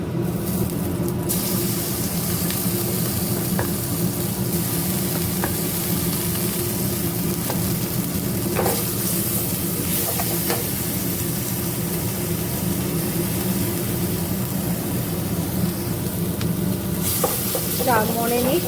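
Ginger paste frying in a kadai with garam masala, clove and cinnamon, a loud continuous sizzle with a low steady hum beneath and occasional spatula scrapes and clinks throughout.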